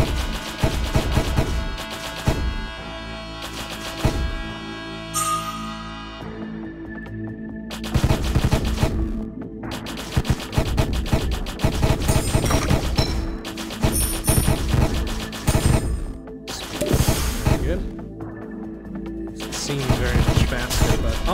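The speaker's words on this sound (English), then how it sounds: "Those are bullets." Bursts of gunfire sound effects, rapid machine-gun volleys and single shots in loud clusters separated by short lulls, with a low hum beneath and a voice occasionally present.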